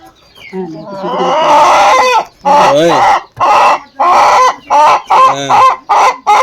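Loud chicken clucking and squawking in rapid repeated bursts, close by, with short pauses between calls; no one speaks.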